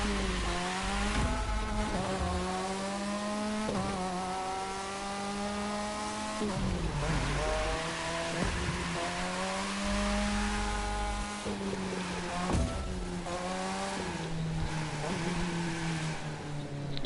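A car drifting in the racing game The Crew 2, its engine revving hard and steadily with shifting pitch as the tyres slide, loud and continuous throughout.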